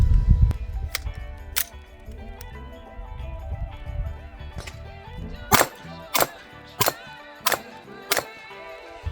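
A pistol fires a fast string of about six sharp shots in the second half, evenly spaced over roughly three seconds, following a few scattered earlier reports over low background rumble.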